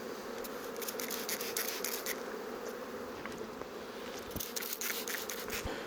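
Honey bees hum steadily around a reinforced swarm hive, a dense continuous buzz with individual bees flitting close past at moments, no voices over it.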